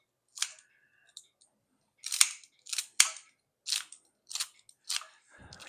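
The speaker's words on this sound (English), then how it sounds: "So I like to cut my celery pretty small also." Knife cutting celery into small pieces on a board while making a broccoli bacon salad, a series of about seven crisp, close chops spaced roughly half a second apart.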